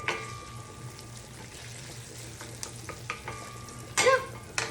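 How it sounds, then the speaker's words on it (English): Capers sautéing over high heat in a hot pan make a steady soft sizzle with small stirring scrapes and a louder crackle near the end, no voices. "I'm going to turn up the heat so it does it really quickly. So it just sautés."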